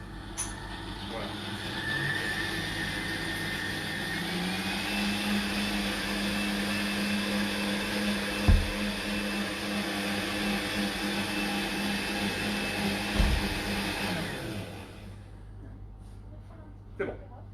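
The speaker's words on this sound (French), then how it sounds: "Donc c'est un mixeur traditionnel, hop, on met tout dedans" Traditional kitchen blender runs steadily in a restaurant kitchen, a continuous whirring motor drone lasting about fourteen seconds before cutting off, with a few knocks and faint talk around it.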